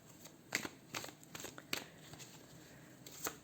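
Tarot cards being shuffled by hand, giving a few soft, crisp riffling snaps and papery taps spaced irregularly over quiet room tone, with no talking.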